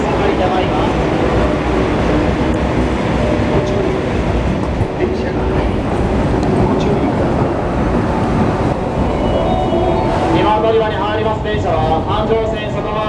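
A train rumbles and rattles steadily at a platform of Osaka Station, loud and close throughout, with a station announcement voice heard faintly over the rolling noise near the end.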